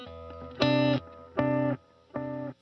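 Three sustained electric guitar chords, each with a sharp attack and a brief hold, are played through an analog delay pedal on a pedalboard. The chords are evenly spaced and clean, with no talk.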